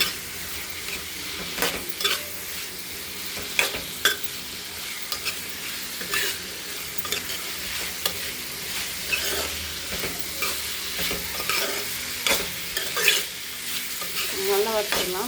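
Ivy gourd is stir-fried with chilli powder, pepper and garam masala, a steady sizzle broken by repeated sharp scrapes and clacks of a spoon against the pan at an uneven rhythm.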